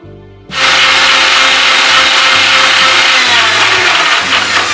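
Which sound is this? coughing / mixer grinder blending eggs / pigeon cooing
mixer grinder blending eggs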